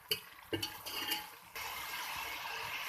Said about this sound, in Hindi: अब इसके अंदर हमने पानी ऐड करना है। इतना पानी इसके अंदर डालेंगे कि गोश्त अच्छा सा गल जाए।